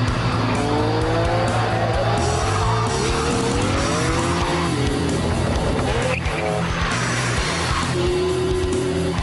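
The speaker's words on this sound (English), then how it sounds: "The Enzo is beautifully put together and super fast on the track," A Ferrari Enzo drives fast on a racetrack. The loud engine rises and falls through gear changes, with tire squeal and skidding as it corners, heard close and continuous.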